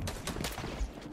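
Rapid bursts of gunfire in the video game Fortnite, a dense crackling fusillade of close shots running through the whole short moment with no talk.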